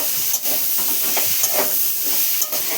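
Water poured into a hot pan of prawn, potato and bitter gourd curry hisses and steams, a loud close burst of sizzling that flares and settles over a few seconds.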